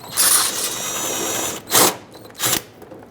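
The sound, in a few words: removing 7mm screw from car bumper cover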